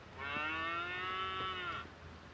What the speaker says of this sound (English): let's find the cow sound here and we can vote